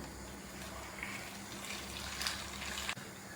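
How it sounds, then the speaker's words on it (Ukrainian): Freshly boiled water pours steadily into a sauté pan over cut tomatoes, a close, continuous splashing gush with no voices, ending in a brief clunk. "Ну і тепер в мене водичка закипіла, заливаємо."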